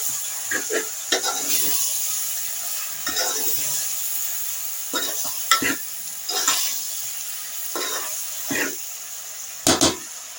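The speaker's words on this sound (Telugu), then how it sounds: "టమాటాలు కూడా వేసుకున్నాం కదా, కొంచెం ఉప్పు వేసుకుందాం. ఇదంతా ఒకసారి కలిపేసుకుందాం." Tomatoes and salt are stirred into curry frying in a pan, with a steady sizzling hiss under repeated scraping strokes of the spoon, close and moderately loud.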